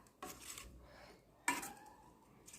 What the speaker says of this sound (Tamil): இனிமேல் இதை நல்லா மிக்ஸ் பண்ணணும்.